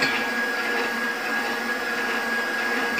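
An electric grinder whirs steadily for a brownie recipe, a loud continuous motorized drone with a high whine, heard close and alone.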